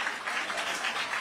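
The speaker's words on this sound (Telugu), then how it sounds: "గట్టిగా చప్పట్లు కొట్టి అభినందించండి." Steady, dense applause from an audience at a public event attended by a chief minister and deputy chief minister, continuous and evenly loud throughout without pauses.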